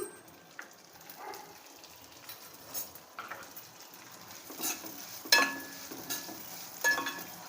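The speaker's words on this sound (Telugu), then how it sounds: "ఈ మిగిలిన నెయ్యిలోనే మనం తీసుకున్న సేమియా కూడా ఫ్రై చేసుకుందాము." Vermicelli frying in leftover ghee for semiya sabudana payasam, with a quiet steady sizzle broken by occasional louder scrapes and clinks of a spoon stirring in the pan.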